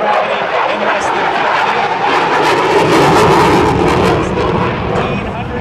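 An F/A-18F Super Hornet's twin jet engines, capable of full afterburner, roar loud and continuously at the 2006 MCAS Miramar airshow, with a voice faintly audible beneath the noise.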